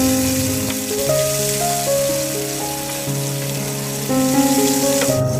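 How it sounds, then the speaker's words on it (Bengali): Chilies fry over low heat in oil for a sour-sweet bilimbi pickle, giving a steady close sizzle that runs throughout, overlaid by sustained tonal music. "এবার লো হিটে কিছুক্ষণ ভেজে নিব"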